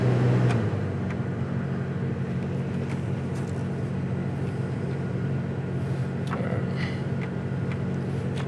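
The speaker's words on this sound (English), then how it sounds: "heater fan works" A steady, even whir of the heater blower fan inside a 2000 Dodge Ram Sport pickup, a constant low broadband hum with no change in pitch and a few faint clicks over it.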